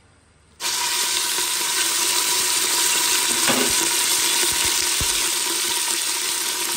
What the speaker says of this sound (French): Après, quand je mets de l'huile, c'est très chaud là, vous voyez, la chaleur qui sort dedans. Je mets la viande.